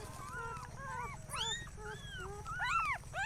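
A small puppy whimpers and whines in a series of thin, rising and falling cries, close by over a low background rumble.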